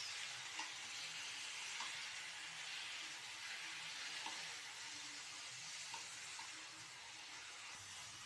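Pork fries in a pan as the first step of a sinigang: a steady, soft, crackling sizzle with small pops throughout. No one speaks over it.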